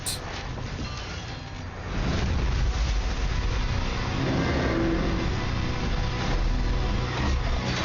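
Heavy engines rumble to life in the Doom: The Dark Ages game trailer, a dense mechanical roar that swells suddenly after a couple of seconds and holds loud and steady.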